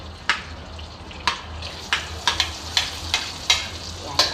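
Garlic frying in a pan for spaghetti sauce, a soft continuous sizzle broken by about a dozen sharp scrapes and stirs of a utensil at a fairly regular pace.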